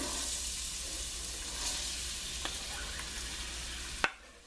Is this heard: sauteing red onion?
yes